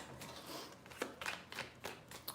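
Tarot cards shuffled by hand in a few quick riffling bursts, close and fairly quiet, with brief soft slaps between them and no talking.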